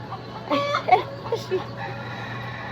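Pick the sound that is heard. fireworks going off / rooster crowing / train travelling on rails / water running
rooster crowing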